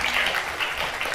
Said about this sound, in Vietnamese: Vỗ tay đi ạ.